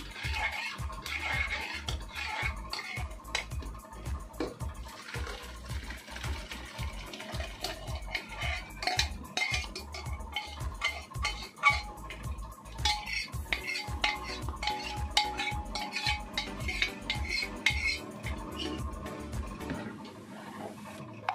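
Veg dal being emptied out of a metal cooking pot, with a steady run of scraping and clanking of a spoon against the pot that carries on for about twenty seconds, close and fairly loud, with no talking.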